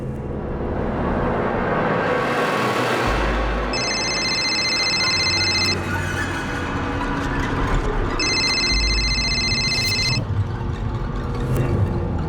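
An alarm clock ticking in a quiet bedroom at night, a steady low tick under a constant background hum, with two long bursts of a high electronic tone breaking in.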